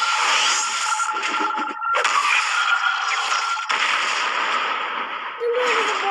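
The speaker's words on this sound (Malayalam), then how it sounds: "പടക്കം പൊട്ടി. അല്ലാതെ പിള്ളേർ കുറച്ച് പേര് വെളി പടക്കം പൊട്ടിക്കും." Firecrackers set off outdoors by kids crackle and burst in loud, dense rolling volleys with brief gaps between bursts, close and continuous.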